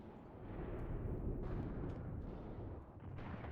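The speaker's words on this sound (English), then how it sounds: "these guys are getting murked a bit by the mortars" Mortar and artillery explosions in the WW2 game Mius Front, a deep continuous rumble of distant blasts, with a few muffled bursts standing out around the middle and near the end.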